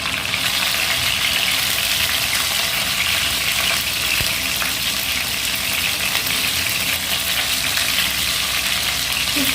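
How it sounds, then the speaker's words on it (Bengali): Chicken pieces sizzle in oil as they fry until brown, a loud, constant crackle close by with a faint stirring knock partway through and no talking. "বেশ একটু ব্রাউন কালার করে পিসগুলোকে ভাজতে হবে।"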